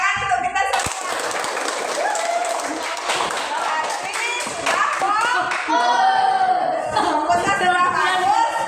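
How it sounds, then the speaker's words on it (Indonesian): A school class claps together in a classroom, uneven close-up hand claps and taps mixed with children chattering and a teacher talking over the noise. "Tepuk tangan untuk kita semua."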